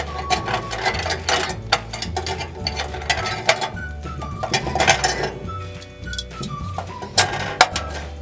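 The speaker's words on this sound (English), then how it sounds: "So we're using a 10mm socket. Simply unscrew this, remove the plate" A ratcheting 10mm socket unscrews a plate on a 120 towel steamer, giving repeated close clicking pawl bursts and metallic clinks in uneven spurts, over a low hum.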